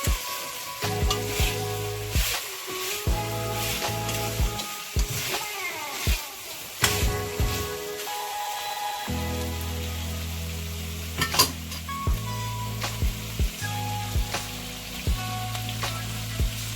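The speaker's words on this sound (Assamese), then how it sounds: "এতিয়া মই বিলাহী কাটি লৈছিলোঁ, এটা দি দিছোঁ ইয়াত। ভালদৰে লৰাই দিছোঁ।" Chopped tomatoes being stirred in a frying pan with ginger and garlic, repeated scraping strokes and clinks over a steady sizzle close by.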